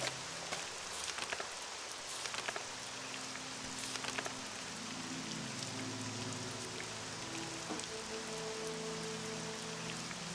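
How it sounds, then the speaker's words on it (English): Steady rain in the Morrowind video game falls as a constant, even hiss with faint scattered drop patter throughout, without voices. "Maybe get out of the rain?"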